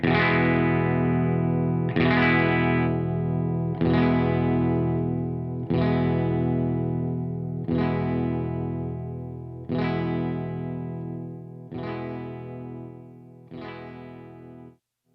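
Eight sustained electric guitar chords strummed about every two seconds as the stock volume knob is rolled down from 10 to 1, each ringing out, growing slightly quieter and duller.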